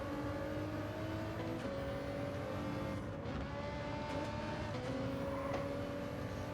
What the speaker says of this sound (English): Listen to the sound of that Ferrari.